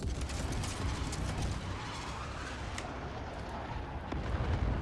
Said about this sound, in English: I'm gonna launch 4 missiles.